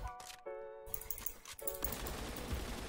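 Rapid automatic bursts of LMG fire in the online shooter Phantom Forces, loud and close, with several rattling strings of shots broken by brief pauses.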